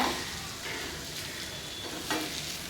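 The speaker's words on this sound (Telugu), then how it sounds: "ఇప్పుడైతే నేను ఒకసారి కలుపుకుంటున్నాను" Sesame seeds being stirred into a gourd masala curry in a pan, soft scraping stir strokes over a faint sizzle, quiet and close, with no talk.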